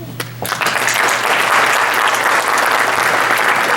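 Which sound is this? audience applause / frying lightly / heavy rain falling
audience applause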